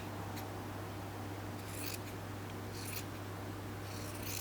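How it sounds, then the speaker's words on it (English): Scissors cutting double pant suit fabric along a hem, three short crisp snips spaced about a second apart over a steady low hum. "now I can cut it."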